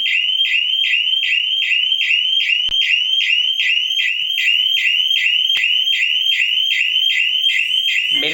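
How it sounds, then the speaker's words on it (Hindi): A PIR motion-sensor security alarm siren blares loud and steady, a rapid repeating electronic warble pulsing several times per second without pause, close and alone. "तो विद इन 1 सेकेंड या 2 सेकेंड मेरे सिस्टम ने अलार्म कर दिया"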